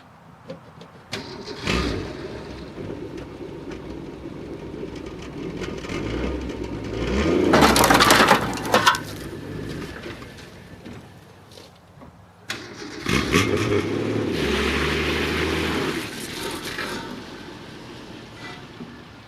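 An old Ford Falcon cranks and fires up, then revs and pulls away with its engine rising loud and close, drops back, and surges again as it drives on, with no talking.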